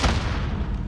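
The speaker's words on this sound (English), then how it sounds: "Did my semtex just explode off the wall there?" A semtex grenade blows up in a video game shooter, a short, loud, booming blast with a rumbling tail that fades within a second.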